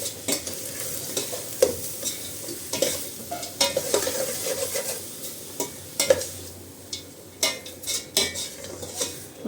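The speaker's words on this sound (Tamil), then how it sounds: "உப்பு போட்டு ஸ்டவ் ஆஃப் பண்ணிவிட்டு அப்படியே கலந்துக்குங்க" A spoon stirs and scrapes cucumber rice masala in a metal pan after salt is added and the stove is turned off. Irregular clinks and scrapes repeat close up over a soft background hiss.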